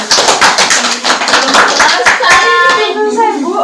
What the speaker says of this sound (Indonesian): Tepuk tangan dulu dong buat temannya.